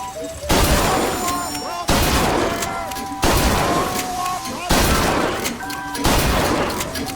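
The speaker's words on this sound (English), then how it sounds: "Never seen shooting like that." Gunshots ring out at a shooting gallery in the video game BioShock Infinite, a series of about five loud, sharp blasts with decaying tails, each roughly a second and a half apart, over music or game sound.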